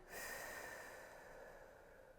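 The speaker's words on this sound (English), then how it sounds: "that was a little tiny bit of a forceful exhale just to kind of emphasize the movement with it" A single forceful exhale during a breathing exercise for ab engagement, a faint, breathy rush of air that starts abruptly and slowly fades over about two seconds, heard close and alone.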